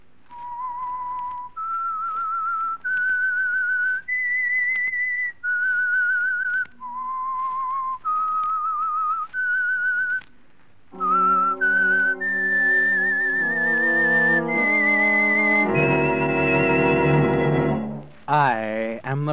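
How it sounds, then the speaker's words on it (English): The signature whistled theme of The Whistler, a Signal Oil radio mystery program: a lone human whistle climbing through a sequence of held notes, then joined by a full orchestra that swells into a loud dramatic chord. "That whistle is your signal for the Signal Oil Program,"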